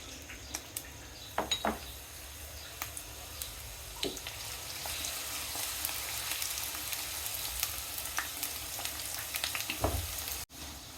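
Chopped onion frying in hot oil in a pan on a stove gives a steady, close sizzle with occasional clinks of a utensil against the pan, and nobody speaks.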